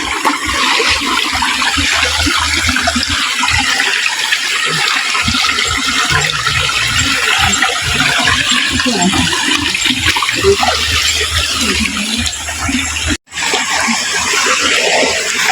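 Water rushes steadily over rocks in a stony creek, loud and close throughout, while people talk now and then over the flow.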